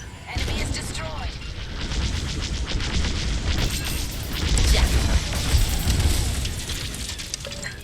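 A starfighter blowing apart in Star Wars: Squadrons, a rumbling burst swelling mid-clip amid engine roar and cockpit radio chatter.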